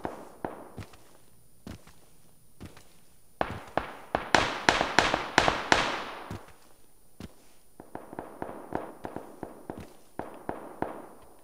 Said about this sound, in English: Somebody is shooting in this direction.